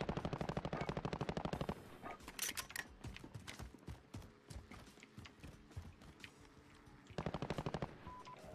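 Video game gunfire in a console shooter: rapid automatic bursts open and close the stretch, with scattered single shots, clanks and mechanical clatter between them, fairly faint overall.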